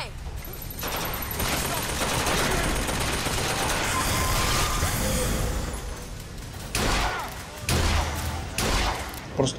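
Gunfire from a revolver and sniper rifle in the video game Bioshock Infinite crackles in dense, loud volleys of rapid shots and impacts, easing off into sharper separate bangs near the end.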